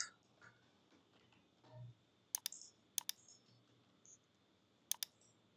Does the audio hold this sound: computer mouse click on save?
yes